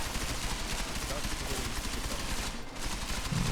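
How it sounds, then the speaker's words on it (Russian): Enemy gunfire in Deus Ex: Mankind Divided rattles on continuously at moderate distance, a dense stream of rapid shots mixed with game noise that never lets up. "Вот они тут стреляют и стреляют"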